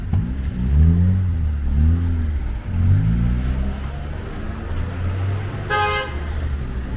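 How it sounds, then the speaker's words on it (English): A car horn honks on a Toronto city street where a driver has blocked an intersection, a clear burst near the end of the clip, heard over steady traffic and engine rumble. "let's honk a horn for that driver who just blocked the intersection"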